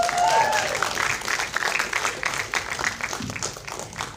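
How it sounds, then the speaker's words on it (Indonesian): Applause from an audience at a film press conference fills the room, dense and steady at first, then thinning slightly, with some voices mixed in. "Kita berikan tepuk tangan sekali lagi yang paling meriah untuk menyambut semua pemeran"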